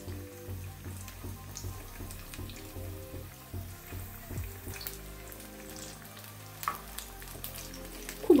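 Cabbage chicken pakoras deep frying in a pan of hot oil, a soft continuous bubbling sizzle heard under background music, with a louder clink at the end.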